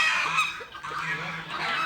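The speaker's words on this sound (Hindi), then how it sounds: "ये देखिए मुर्ग" Domestic fowl kept in a backyard menagerie give honking, goose-like calls, several close repeated cries over a steady background, with faint voices in the mix.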